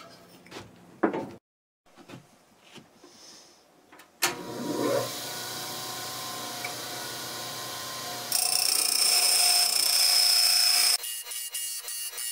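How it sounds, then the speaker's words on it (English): Pedestal grinder spinning up and grinding the cut edges of a 1962 Ford F100 Flareside truck cab panel, preceded by handling clunks, then a steady loud whirring grind that turns harsher near the end before stopping. "I'm going to take it over to the pedestal grinder now and just kind of clean those edges up a little bit."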